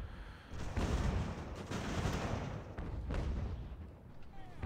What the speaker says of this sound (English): This artillery's at least gonna fire canister at the bastards